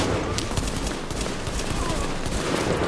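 Pistol shots from the video game The Division crack in quick succession amid other game gunfire, steady and close throughout, with faint talk mixed underneath.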